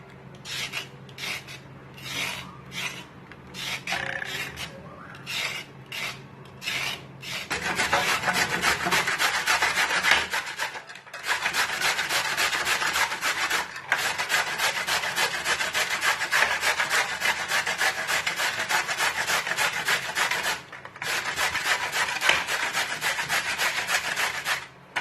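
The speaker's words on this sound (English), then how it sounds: "You grate it" A washed carrot is rubbed against a grater in quick rasping strokes, first in short bursts and then in long continuous scraping runs, loud and close with no talking.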